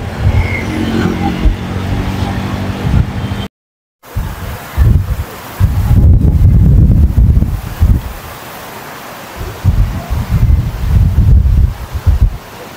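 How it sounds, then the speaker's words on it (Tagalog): Strong gusts at Taal Volcano buffet the microphone in loud, rumbling bursts that rise and fall, with a short dropout partway through. "Grabe yung lakas ng hangin dito."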